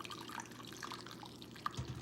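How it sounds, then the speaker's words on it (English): Water poured carefully into an oven-safe pan to form a water bath around ramekins of crème brûlée, a faint, steady trickle with soft drips and no talking. "now we're gonna carefully add our water bath to our oven-safe pan"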